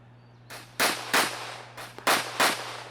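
Gunshots ring out at an outdoor USPSA shooting match, five sharp, loud reports in quick uneven succession over about two seconds, with no talking.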